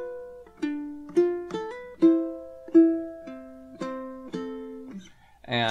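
Slow fingerstyle ukulele playing the opening bar of a song, about eight plucked notes and small chords ringing clearly and decaying one after another at an unhurried pace, with nobody speaking.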